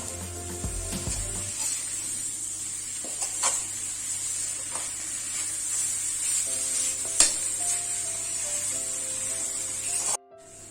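Cabbage sautéing in a pan with a spoon of ghee, producing a continuous moderate sizzle with a few faint scrapes and taps, ending abruptly just before the close.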